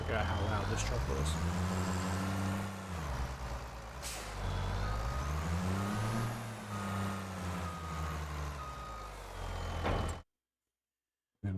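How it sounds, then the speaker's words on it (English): A loud truck engine in Farming Simulator 25 drones close up, its pitch rising and falling in repeated revving sweeps. It cuts off abruptly near the end. "Forgot how loud this truck was."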